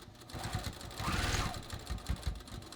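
Sewing machine stitching the tapered hem of a pair of jeans, a rapid mechanical chatter in short bursts with pauses for a back tack, fairly quiet and close.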